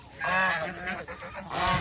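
A goose gives loud, close honks: one drawn-out call, a brief dip, then a second burst of honking near the end.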